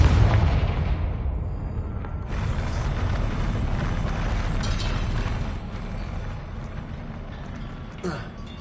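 A Confringo blasting spell explodes in Hogwarts Legacy, opening with a loud deep boom that settles into a long rumbling, crackling decay over several seconds, with a brief swoosh near the end.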